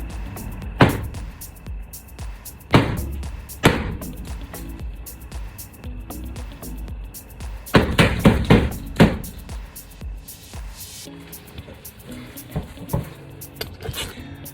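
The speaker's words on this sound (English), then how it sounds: "I can't even use a hammer to make like a dent?" Hammer blows striking a wall during demolition in a laundry and mud room makeover, several sharp thuds coming singly and then in a quick cluster of hits, with quieter knocks between them.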